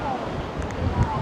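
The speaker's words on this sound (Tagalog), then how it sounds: "Ang lakas ng hangin." Steady, strong cold wind rushing across the microphone outdoors in northern Taiwan, a broad continuous roar with faint water sounds in the background.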